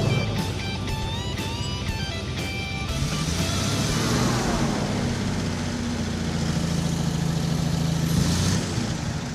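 A car with a coolant fault cruising back roads, its engine a steady droning rumble that rises in pitch as it accelerates, heard close up from inside; high electronic chirps sound at the start.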